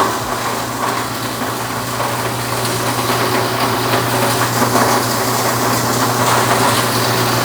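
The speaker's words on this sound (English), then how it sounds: "Now you can hear it's actually hitting the granulator." A BDG Compact 1 mini granulator grinds fed material with a steady, loud, continuous churning roar over a low mechanical hum, holding constant throughout with no pauses.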